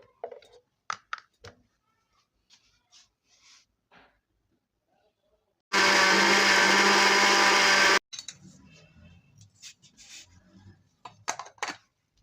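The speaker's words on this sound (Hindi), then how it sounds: "अब मैंने इसको ग्राइंड कर लिया है, यानी कि जो मसाला था उसे।" A kitchen blender grinds masala spices for a crispy karela (bitter gourd) recipe in one loud, steady burst of about two seconds, set between quiet stretches of clinking and handling noises.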